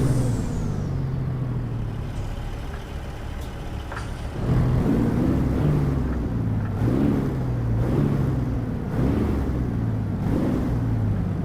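A deep, steady Peterbilt 389 engine drone in American Truck Simulator with low harmonic rumble, rising and shifting in pitch as it revs, with hissing bursts like air brakes.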